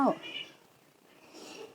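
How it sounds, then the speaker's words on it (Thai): Cats fighting cut through at the start with a short yowling cry, then fade to a faint, muffled rumble in a quiet room during a chair yoga session. "แมวกัดกัน"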